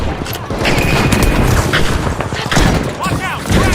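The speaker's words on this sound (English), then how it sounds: "Frag grenade set!" A frag grenade bursts amid heavy gunfire during a match of the shooter game The Finals. Loud booms and rapid shots overlap continuously, with brief voice lines from the game mixed in.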